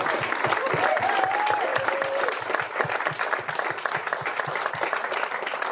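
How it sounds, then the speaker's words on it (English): Sustained audience applause for a music industry panel at White City House, a dense steady wash of many hands clapping at full strength throughout, with a brief faint whistle-like tone early on. "So we'd like to say a big round of applause to the panel first."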